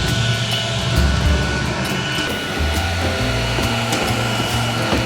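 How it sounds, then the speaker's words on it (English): A vacuum cleaner runs steadily and close by while cleaning out a pass-through inside a cave, a continuous droning whine with shifting low motor tones and scraping as the nozzle moves, with no talking. "We're just gonna vacuum out that entire pass-through to get it clean."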